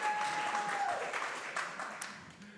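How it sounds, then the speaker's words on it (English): A Unitarian Universalist congregation at a Sunday service gives thanks with applause, a dense patter of clapping that swells and then tapers off as it fades. "give a little applause of our gratitude."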